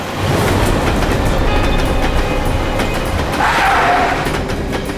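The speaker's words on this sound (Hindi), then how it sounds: "ट्रेन की आवाज़ सुनाई दी थी मुझे" A train runs along railway tracks with a steady, loud rumble and rhythmic clatter of wheels that holds for the whole stretch, close by and with no voices over it.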